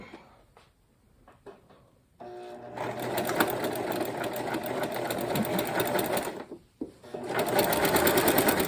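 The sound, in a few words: sewing machine stitching along the fabric edge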